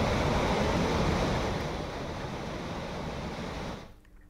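Floodwater rushing after heavy rain, where the approach path to the Mahadev temple at Pachmarhi has turned into a waterfall: a loud, steady roaring wash that eases slightly midway, then drops away sharply near the end.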